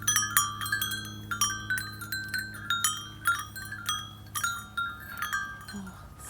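Several wind chimes hang in a vintage workshop backyard, tapped into bright, ringing metallic strikes that arrive in uneven clusters and overlap with sustained tones, close and fairly clear, with no talking.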